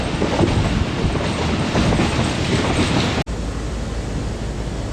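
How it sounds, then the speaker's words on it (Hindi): A passing train hauled by locomotive GU24556, the 40 Down Jaffar Express in Pakistan, roars steadily and loud up close with broadband rumble and rail clatter, briefly cut out near the end before resuming. "GU24556 लेके आ रहा है 40 डाउन जाफर एक्सप्रेस को।"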